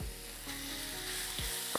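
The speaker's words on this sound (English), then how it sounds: "Now I'm going to add the chicken right in." Chicken sizzles as it sears in olive oil in a Henckels skillet, a steady close frying hiss with a low hum under it, a couple of short scraping or stirring sounds, and no voices.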